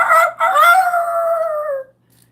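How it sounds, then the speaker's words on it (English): A rooster crows once, loud and close, in a long drawn-out call that holds its pitch before cutting off into quiet. "What time do the rooster crow?"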